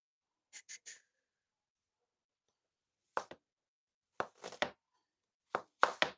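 A knife chops through an onion on a cutting board, with a quick cluster of three sharp cuts followed after a pause by several separate pressing slices, each brief and crisp, alone in a quiet kitchen.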